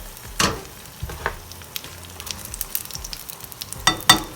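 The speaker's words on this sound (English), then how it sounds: "It's starting to sizzle." Trader Joe's scallion pancakes sizzle softly in a pan, a faint, steady crackle broken by a few sharper pops and clatters, with no voices.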